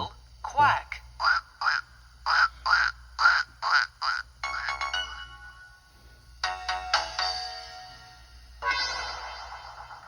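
A series of short, evenly spaced cartoonish duck quacks sound loud and close, followed by bursts of other bright electronic noises and effects from a children's letter-sounds program.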